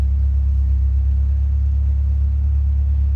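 A 1976 Toyota Celica GT with a 2.2 engine and headers idles with a deep, loud, steady low rumble, heard up close and unchanging throughout.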